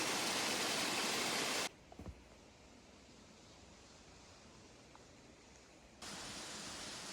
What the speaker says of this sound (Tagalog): you can hear the flowing water